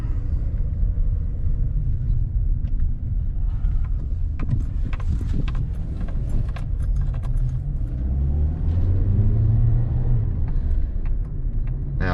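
A car drives slowly around a shopping mall, its steady low engine and road rumble continuous and close throughout, with small rattles and clicks from inside the cabin.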